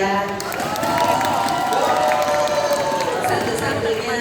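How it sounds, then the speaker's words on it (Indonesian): Enthusiastic audience applause and cheering at a healthcare quality and innovation convention in Jakarta, a steady crowd roar with clapping, mixed with raised voices and a tonal sound running underneath. "tepuk tangannya yang meriah"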